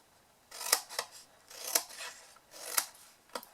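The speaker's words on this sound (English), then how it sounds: "cut them into wedges" Scissors snip through card, cutting the corners into wedges for a small gift box: three or four crisp, close cuts in a quick series against a quiet background.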